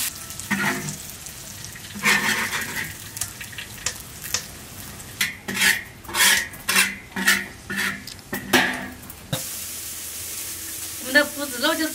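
Metal spatula scrapes and clatters in a wok as fried pork belly with garlic, chili and garlic sprouts is scooped onto a plate, a series of loud rhythmic scrapes over a faint sizzle, then a softer clink at the end.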